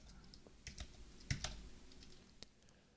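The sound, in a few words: typing on a computer keyboard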